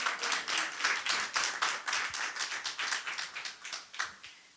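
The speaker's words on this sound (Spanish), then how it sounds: "Les pido por favor un fuerte aplauso para el maestro Fernando Solana." An academic humanities conference audience claps for an honored speaker. The applause is lively and moderately loud with distinct slaps at first, then thins into scattered claps that fade toward the end.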